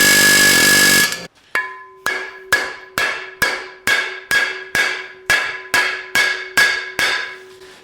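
Heavy sledgehammer blows ring out on metal on a 1941 Mercury custom, about a dozen loud strikes in a steady rhythm, each leaving a bright ringing tone that decays before the next.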